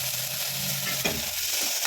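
Onion and tomato sauté in a pan for a vegetable kurma, a soft steady sizzle with a faint scrape of stirring partway through, close and alone.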